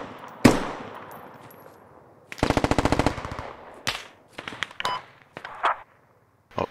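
Gunfire in the video game Squad on the CAF Gorodok RAAS layout: a sharp nearby shot, then a rapid machine-gun burst of about a dozen rounds, followed by scattered single shots and cracks at varying distances.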